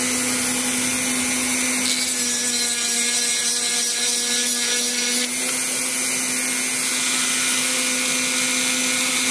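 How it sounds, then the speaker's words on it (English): A grinder runs steadily while working a diamond-pattern design, a continuous high motor whine with a strong steady hum and brief grinding changes midway, loud and without speech. "I do this on the grinder more than anything."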